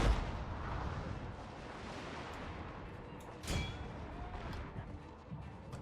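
Artillery fires in the Fall of the Samurai strategy game, a muffled boom standing out about midway through a busy, rumbling battlefield soundscape.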